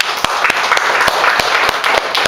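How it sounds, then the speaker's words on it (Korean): A church congregation applauding at a Sunday service, with loud, close clapping from many hands and a few sharp individual claps standing out in a brisk, continuous burst. "박수 한번 쳐주세요."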